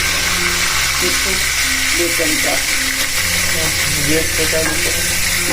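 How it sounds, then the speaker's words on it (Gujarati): Water poured into a hot tempering of oil, mustard seeds, fenugreek and curry leaves for khaman dhokla gives a steady steaming hiss and sizzle throughout, with a voice talking over it. "અને હવે આ પાણી નાખી દીધું છે"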